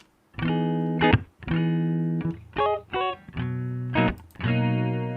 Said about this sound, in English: I took a clean electric guitar recording and made it sound really textured